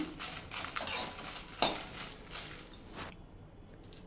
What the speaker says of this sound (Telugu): లో ఫ్లేమ్లోనే పెట్టి ఎండుమిరపకాయలు ఫ్రై చేసుకోవాలి మనం.